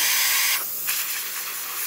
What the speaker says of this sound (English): And steam, as you can see, working really, really good.